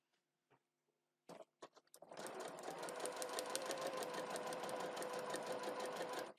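A sewing machine starts with a few separate clicks, then runs in a fast, steady rhythmic stitching through a seam allowance while tiny foundation-paper-pieced heart pieces are joined under the presser foot, close and alone.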